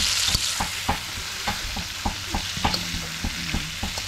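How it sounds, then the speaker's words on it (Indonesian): Tempoyak mixed with shrimp fries in a pan with a steady close sizzle, broken by regular scraping stirs. Nobody speaks. "Nah, goreng tempuyak campur udang."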